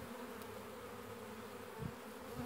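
Bees moving from a wine barrel into a new hive make a steady, low droning buzz that carries on without pause, close by but fairly quiet.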